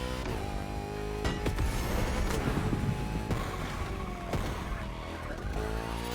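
A car in The Crew Motorfest fitted with a Retro Engineering Sound engine swap revs hard, with sharp crackling exhaust pops and a brief tire squeal over a loud roaring engine, no talk.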